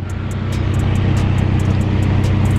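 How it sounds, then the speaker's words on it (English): A 1999 Jeep Grand Cherokee with a 4.0L engine drives along, heard as a steady low motor rumble and road drone, with a regular light ticking running through it. "We got the Jeep running, so now Ethan's driving it back to my house."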